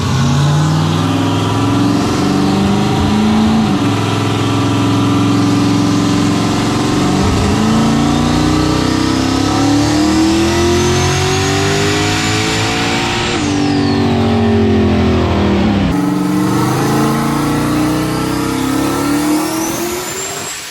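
A turbocharged car running about 5 pounds on the wastegate dome roars through a dyno power pull, engine pitch climbing loudly in long sweeps with sharp drops between gears, close and continuous.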